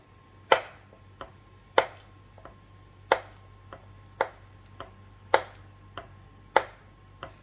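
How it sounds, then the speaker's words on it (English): A knife cutting butter into small cubes on a board, making a dozen crisp close taps in a steady rhythm, alternating louder and softer strikes, with no talking. "I'm going to cut it down into little bitty cubes."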